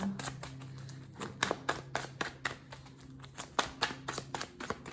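Tarot cards being shuffled by hand, a quick run of crisp riffling flutters and taps close to the mic, irregular and fairly soft, over a faint low hum.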